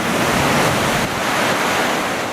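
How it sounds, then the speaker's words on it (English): Ocean surf crashes continuously against a rugged rocky point at low tide near Timaru, where waves meet from two directions, a loud broadband roar with wind buffeting the microphone and no voices. "there you see the good point of where the waves meet, two different directions"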